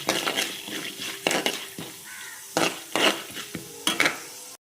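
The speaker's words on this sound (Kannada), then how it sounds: "ಕೆಂಪು ಆಗೋವರೆಗೂ ಸ್ವಲ್ಪ ಫ್ರೈ ಮಾಡ್ಕೊಳ್ಳೋಣ" Chana dal and cumin seeds frying in a pan for cabbage palya, with a spatula repeatedly scraping and clinking against the metal pan in bursts over a soft background sizzle.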